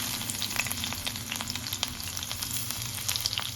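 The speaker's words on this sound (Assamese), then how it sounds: "তেল অকণ গৰম কৰি দিওঁ" Oil heating in a wok on the stove, giving a steady, close crackling sizzle with small pops scattered throughout and no voices.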